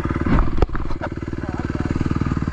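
A dirt bike engine idles and revs close by in a steady, rapid chugging pulse, loud and continuous, with brief voices and a sharp clack near the start.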